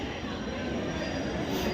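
A train rumbles through Agra station with a steady low roar and a faint metallic squeal, heard from the platform amid crowd noise.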